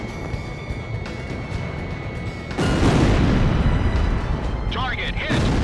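An Ace Combat jet fires on its locked target and the target explodes in a loud boom that swells suddenly and rumbles on with a broad roar, as a voice talks over the blast and another sound rises near the end.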